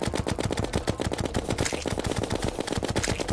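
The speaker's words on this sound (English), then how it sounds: "So I'm going to use a ton of ammo doing this, but when he goes in the ground I should stop shooting." Rapid automatic gunfire from the game Terraria fires at a boss in a fast, unbroken stream of loud, evenly spaced shots that last throughout.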